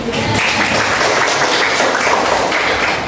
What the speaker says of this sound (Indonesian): Oke, sudah, aplaus.